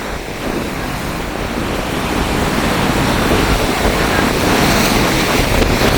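Strong cyclone wind roars continuously through coconut palms in Jaffna, Sri Lanka, with heavy surf crashing underneath, a loud, dense rumble that builds slightly and never lets up.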